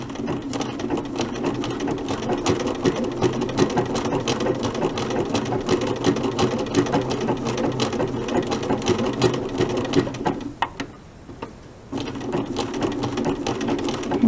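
A sewing machine works a buttonhole stitch for machine appliqué, giving a steady, rapid mechanical chatter that runs close and continuous, then briefly drops away before resuming, with no talking.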